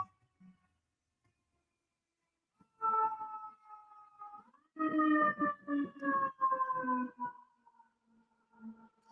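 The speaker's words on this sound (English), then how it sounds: "I don't understand why our sirens have to be so loud" A wailing siren rises and holds in long tonal swells, moderately distant, with short gaps between sustained tones.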